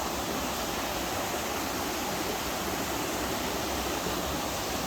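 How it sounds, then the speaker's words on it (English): A creek runs through an open field along the Roaring Fork Motor Nature Trail near Gatlinburg, Tennessee, giving a steady, even rush of flowing water with no voices over it. "beautiful creek running through."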